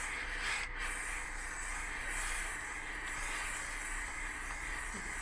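A handheld garment steamer hisses steam steadily onto an Adidas garment's fabric to lift leftover jock-tag residue, a continuous close, even broadband hiss with no talking.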